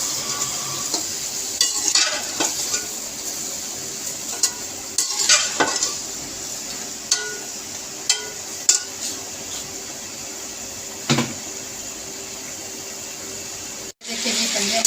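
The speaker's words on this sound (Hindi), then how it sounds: "इसी ऑयल में मैं पंजे फ्राई कर लूँगी। तो ये देखिए जी पंजे मैंने डाल दिए, ये फ्राई हो जाएंगे इसी तरीके से।" Chicken feet frying in hot oil in a pan, a steady soft sizzle with intermittent stirring clinks and scrapes, heard close with someone speaking over it at times.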